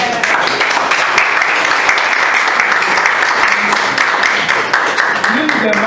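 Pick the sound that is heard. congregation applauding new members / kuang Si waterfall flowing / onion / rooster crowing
congregation applauding new members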